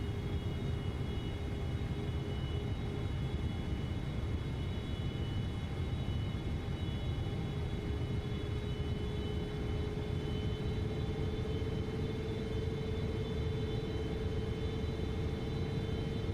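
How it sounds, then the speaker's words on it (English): A Boeing 777 airliner's engines drone steadily on landing approach in Microsoft Flight Simulator 2024, a loud continuous rumble with a sustained whine running throughout, no talking. "we got to try to land this plane at the perfect spot"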